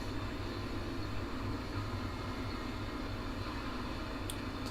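A train rolls steadily in the Run 8 Train Simulator game, a continuous low rumble and broadband rolling noise holding at an even level throughout, with a brief high-pitched squeal near the end.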